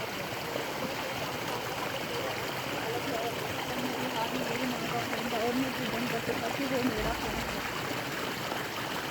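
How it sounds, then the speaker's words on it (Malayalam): A mountain stream flows down beside the Amarnath Yatra route in the mountains of Kashmir, producing a steady, even rushing and gurgling wash that fills the whole stretch at moderate level without pause. "കളകള ശബ്ദം കേൾക്കുന്നത് ഒരു അരുവി അങ്ങ് മുകളിൽ നിന്നും ഒഴുകി വരുന്നതാണ്"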